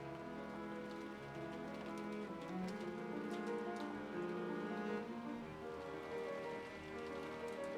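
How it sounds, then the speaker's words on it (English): Soft, steady rain ambience, a continuous gentle wash of falling drops on a surface playing quietly and evenly throughout, with low tonal music humming faintly underneath and no voices. "The rain ambience is definitely helping my sleepy mood."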